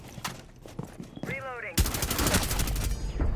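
Rapid gunfire with heavy recoil bursts out in a first-person shooter video game, a loud sustained volley after a brief chirping game sound and faint clicks.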